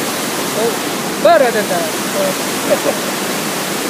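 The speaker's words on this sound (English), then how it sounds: "This place is the waterfalls in Maryland, yes." A waterfall in Maryland near the Virginia border roars as a steady, broad rush of falling water, loud and continuous, with a person speaking briefly over it.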